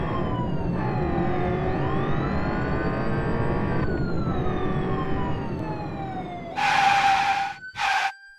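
A cartoon police car siren wails continuously with rising and falling tones, loud and close, then cuts off into two short bursts of a harsh horn.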